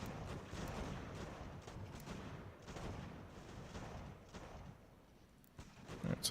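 Volleys of musket and cannon fire from troops in the video game Ultimate General: American Revolution, a dense, low rumble of distant shots that swells and fades repeatedly, fairly faint.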